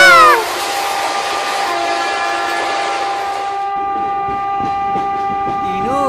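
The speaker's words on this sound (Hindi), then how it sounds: "ट्रेन आ रही है" A cartoon train arrives at a station, sounding a loud, sustained horn over a continuous rolling rumble, with the horn tones shifting near the end.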